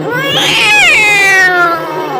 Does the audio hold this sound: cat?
yes